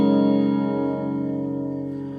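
Electric guitar played through an MXR Phase 95 phaser pedal: one sustained chord rings out and slowly fades with a gentle swirling sweep. No one talks.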